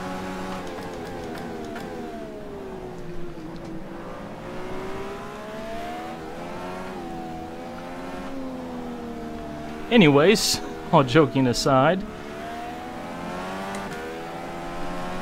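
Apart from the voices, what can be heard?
Indycar race car engines in video game rFactor 2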